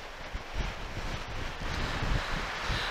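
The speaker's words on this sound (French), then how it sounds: "Ah oui, il y a du vent là." Strong wind blowing along the ocean shore, buffeting the microphone with a steady, loud roar and low rumbling gusts throughout.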